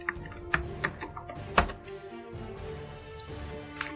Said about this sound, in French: Je tape tout simplement Java.